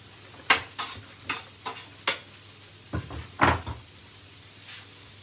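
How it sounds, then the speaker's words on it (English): Garlic goes into a pan for a vegetable and lentil shepherd's pie, heard as a series of loud, close clattering strikes and scrapes with a soft background sizzle between them. "Going in with our garlic"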